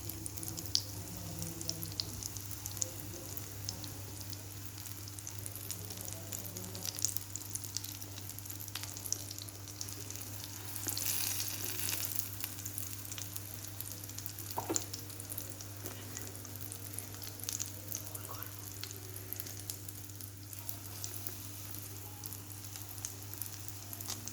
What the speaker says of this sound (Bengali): এইভাবে আমি একে একে সব উচ্ছেগুলো ছেড়ে দিলাম তেলে।